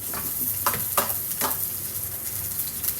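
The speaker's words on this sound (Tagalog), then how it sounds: "Nagtatalsikan ng mantika." Hot cooking oil spattering in a pan during frying, with a few sharp crackling pops over a low steady sizzle, close and fairly quiet.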